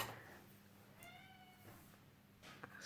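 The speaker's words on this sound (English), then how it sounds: "excuse my cats in the background" Cats meowing faintly in a room, with one drawn-out meow in the middle and another brief cry near the end, both heard over a low background hum.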